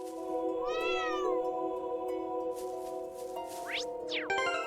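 A cat meows during gameplay of Trails of Cold Steel III, a single rising-and-falling cry over steady game music and chiming effects, close and clear with no talking.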